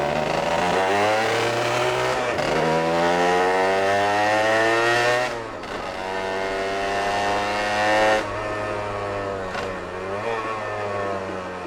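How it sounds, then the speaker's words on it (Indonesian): Two-stroke motorcycles, a Honda NSR SP Repsol and a Suzuki Satria Kenny Roberts, rev loudly in a residential complex, the engine note climbing and falling in repeated sweeps with a brief dip midway, close and continuous with no talking. "Tapi emang nih motor berisik banget sih."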